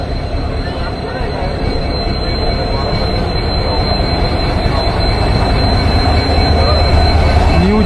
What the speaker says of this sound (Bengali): আমার পাশে old generation engine WDG 4D diesel EMD goods locomotive.